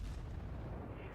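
Cruiser guns firing in the naval combat game World of Warships, a deep low-end boom rolling through the whole brief moment, steady and dense with no clear separate shots, heard alone without talk.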